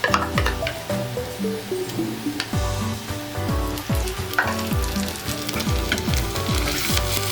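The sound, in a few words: ginger garlic paste frying with fried onions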